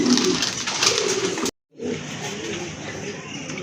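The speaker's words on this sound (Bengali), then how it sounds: "দেখেন প্রথমে একজোড়া ম্যাকপাই কবুতর, একেবারে ইউনিক কালার" A pair of magpie pigeons coo softly amid dense, steady background noise, with a brief silent gap midway before the noise and cooing resume.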